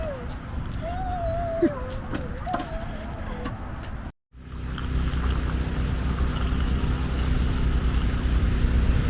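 Steady, loud traffic roar from the I-95 highway about 400 yards away rumbles continuously at an RV boondocking stop. A cat meows over it early on, and the noise cuts out briefly before resuming.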